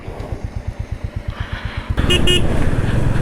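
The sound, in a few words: Royal Enfield Classic 350 motorcycle setting off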